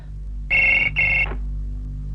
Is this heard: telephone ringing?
yes